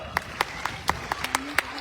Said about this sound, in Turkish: Onlara cesaretlerinden dolayı bir alkış alalım bakalım.